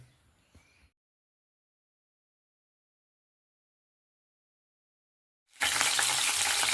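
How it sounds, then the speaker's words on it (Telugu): Green chillies frying in hot oil in a pot, a loud steady sizzle that bursts in near the end after a short faint stretch and a long silence. "గిన్నెలో నూనె వచ్చి పచ్చిమిర్చి వేసుకొని ఇలా వేయించుకుంటున్నామండి"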